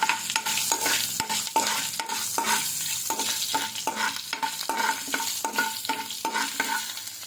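Red chillies frying in hot oil for gongura pachadi, a constant crackling sizzle with a regular rhythm of spatula strokes scraping the pan, close and fairly loud, with no talking.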